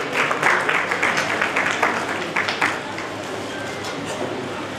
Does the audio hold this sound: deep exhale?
no